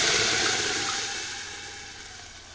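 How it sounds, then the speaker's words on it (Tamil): Mashed spinach greens and cooked lentils hit a pan of frying onions with a loud hissing sizzle that fades gradually over a couple of seconds, close up with no voices. "இப்போ கடைஞ்ச கீரையும் பருப்பும் சேர்த்துக்கலாம்."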